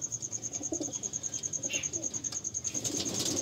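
Soft, low cooing from a white female Kaldom pigeon, repeating steadily with a faint constant high whine behind it and scattered chirps in the background.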